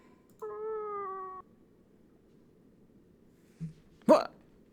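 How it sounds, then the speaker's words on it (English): Cat in the video game Fragile Dreams: Farewell Ruins of the Moon, one drawn-out tonal meow followed after a pause by a short thump and a sharp brief cry, otherwise near silence. "Cat! It's the same cat from before."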